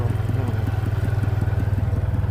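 A small farm tractor driven by a child chugs close by, its engine knocking in a steady, rapid rhythm with loud low rumble and some clatter, no voices.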